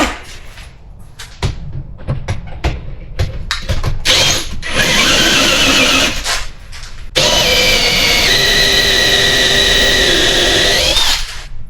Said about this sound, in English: Pretty sure I've hit the bottom of the original drill hole.